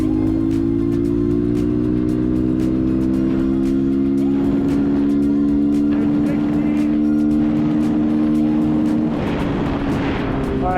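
A cheap Amazon 250cc motorcycle, made road legal, holds a loud steady engine drone during a top speed run on a flat road, with its pitch gradually shifting and wind noise rising toward the end.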